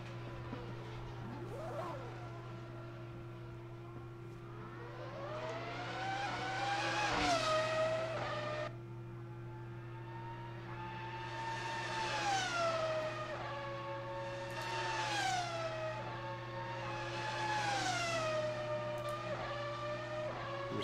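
Racing cars on a flying lap at Monza in a sim racing game, engine notes climbing and dropping through gear changes, with several cars passing close by over a steady low drone and brief tire squeal.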